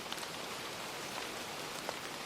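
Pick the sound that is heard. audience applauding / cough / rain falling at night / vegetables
rain falling at night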